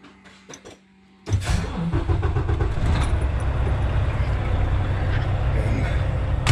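A vehicle engine cranks after a few faint clicks, then catches and settles into a steady, close running rumble that continues to the end.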